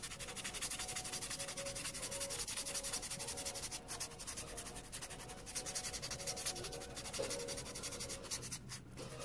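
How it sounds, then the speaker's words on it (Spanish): Steady, continuous close-up scratchy rasping of a small sponge file buffing the top of short acrylic nails, an even unbroken texture with no talk over it. "Con esta esponjita nada más estaré limándolo de encima."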